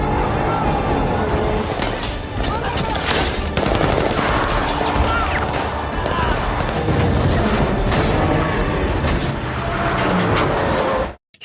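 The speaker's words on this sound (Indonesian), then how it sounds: "mereka terlibat baku tembak dengan para pasukan Taliban" Dense, sustained gunfire and explosive bursts from a film firefight against Taliban troops, loud and continuous throughout, with mechanical clatter and booms layered in and no speech.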